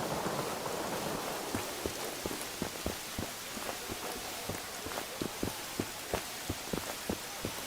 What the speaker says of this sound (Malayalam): നല്ല കനത്ത മഴയാണ്